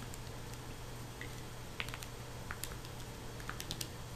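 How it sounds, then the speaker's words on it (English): Buttons on a calculator are pressed in a quick, irregular series of light plastic clicks as numbers are entered, faint and close in a quiet room with no talking. "I will just type that in my calculator just like I wrote it"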